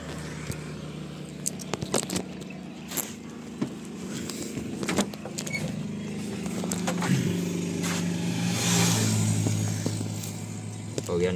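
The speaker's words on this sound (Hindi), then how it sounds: "अभी गाड़ी छोड़ेंगे यहाँ से।" A truck pulls away from a roadside breakfast stop, its engine idling low and then building steadily with a rising drone and some clunks, close by, mixed with traffic noise and occasional voices.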